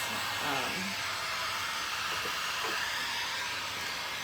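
A hair dryer blows steadily on a painted tray, a continuous close broadband whoosh with little change over a few seconds, and a voice speaks faintly beneath it.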